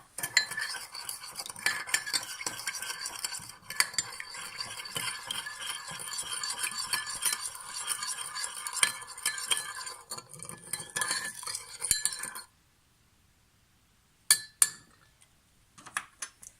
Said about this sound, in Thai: น้ำตาลค่ะ เกลือค่ะหลังจากนั้นคนเข้ากันนะคะ